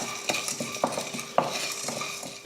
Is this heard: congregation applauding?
no